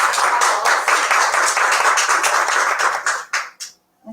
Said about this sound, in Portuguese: Uma salva de palmas, né, gente?